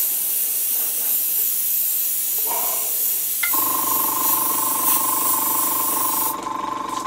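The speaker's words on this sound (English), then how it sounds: "gently airbrush the wash on" An airbrush sprays a brown ink wash over a dungeon stencil: a faint hiss first, then a louder, steady close spray with a constant tone that runs on for several seconds and ends abruptly.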